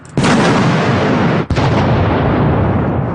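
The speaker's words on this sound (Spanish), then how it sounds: "La fuerza de la explosión hace que las bolas penetren en el soldado y en las rocas cercanas" A can packed with balls and gunpowder, set up as a fragmentation mine, detonates in a loud, close blast with a long roaring rumble, a second burst following moments later and decaying slowly.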